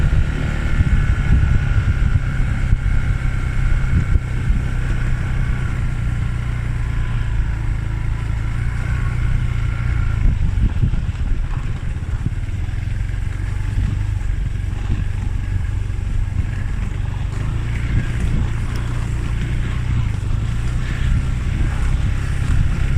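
A boat motor runs steadily and loudly throughout, a constant low droning hum with wind noise over the microphone and no talking.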